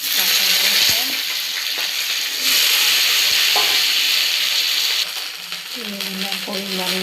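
Sliced okra frying with yogurt, oil, dried and green chilies, cumin, turmeric and salt in a pan, a steady close sizzle with occasional utensil clinks and stirring scrapes.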